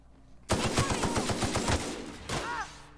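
Rapid automatic gunfire in the sci-fi shooter The Outer Worlds rattles off a quick burst of a dozen shots, loud and near, followed by a couple of further blasts.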